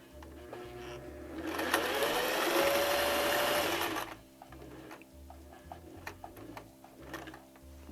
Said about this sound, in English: Okay, and I am just going to sew this.